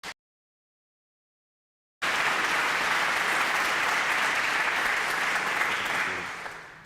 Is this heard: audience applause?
yes